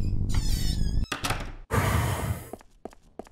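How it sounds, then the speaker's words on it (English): A door in the horror video game I See You squeaks and creaks open, then closes with heavy thunks and knocks, and a few quieter knocks trail off afterward. No voices are heard. "Oh, this is the door."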